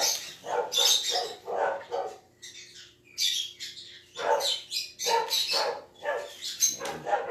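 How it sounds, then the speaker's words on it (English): Dogs bark in rapid overlapping bursts close by, loud yapping volleys with short gaps, while faint birdsong chirps in the background. "let me go stop them from barking"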